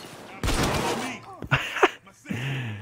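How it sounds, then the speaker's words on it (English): Shotgun fire in the heist shooter Payday 2, with several sharp blasts spread across a busy firefight while a person talks over the action. "Oh, that was a shot."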